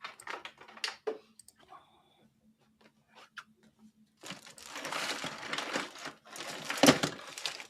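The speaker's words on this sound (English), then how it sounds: "Spare keyboard." Scattered clicks and taps on a spare computer keyboard give way to a denser, louder burst of rustling clatter, close by and with no one talking.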